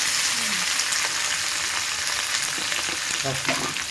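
Curry leaves fry in hot oil with a loud, dense, continuous sizzle and crackle, close up, with a faint brief tone underneath and no talking.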